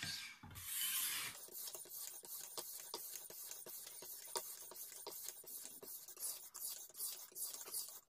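A knife blade is drawn back and forth over a 3000 grit sharpening stone held in a jig, a faint, quiet rhythmic rasp repeating roughly every third of a second, close and steady after a brief rustle at the start.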